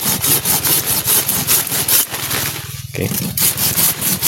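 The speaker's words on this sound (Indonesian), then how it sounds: "untuk yang besar gergaji samurai" A samurai hand saw cuts through a thick branch of a coffee tree during post-harvest pruning, giving steady, rhythmic rasping strokes close by with a brief pause partway through.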